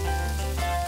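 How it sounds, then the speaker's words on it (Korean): Uiseong garlic-fed beef sizzles on a grill, a short burst of steady, crackling hiss set against a constant low electrical hum. "지글지글 소리까지 일품."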